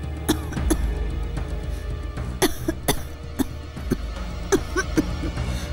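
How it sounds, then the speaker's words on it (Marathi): Several short, sharp coughs scattered over a few seconds, close by, with quiet background between them. "थोडासा खोकला आहे, ठीक होईल नक्की"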